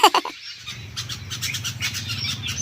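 Birds chirping and squabbling in mango and parijat trees on a village evening, a busy overlapping chatter of calls with a few sharp close squawks at the start and softer flapping and tweets spread throughout.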